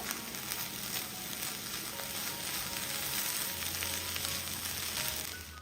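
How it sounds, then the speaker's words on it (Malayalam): A frying curry sizzles steadily as coriander leaves are stirred in, a constant crackling hiss with faint scraping strokes, fairly quiet and close, no voices. "ഇനി ഒന്ന് ഇളക്കി കൊടുക്കാം"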